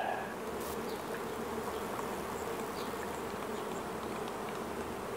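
Bees in a strong honeybee hive being treated for black queen cell virus give off a steady, dense buzzing that stays even and close throughout.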